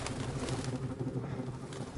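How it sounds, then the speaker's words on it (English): Pigeons cooing in the video game Detroit: Become Human, a continuous murmur of low, overlapping coos from a flock, fairly close and steady, with no speech. "all of the birds."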